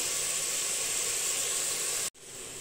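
Mutton sautéing in a pan with onion, ginger and garlic gives a steady, close sizzling hiss that holds evenly, then drops out briefly near the end before resuming slightly quieter.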